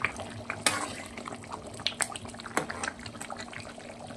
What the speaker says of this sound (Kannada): ಈಗ ರೆಡಿಯಾಗಿದೆ ನೋಡಿ, ಎಷ್ಟು ಚೆನ್ನಾಗಿ ಕತ ಕತ ಕತ ಅಂತ ಕುದೀತಾ ಇದೆ